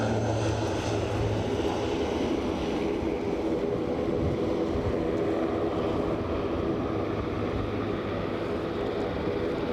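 Jet engine noise at Aberdeen airport, a steady loud broadband roar holding for the whole stretch as an easyJet airliner pushes back, with helicopters nearby.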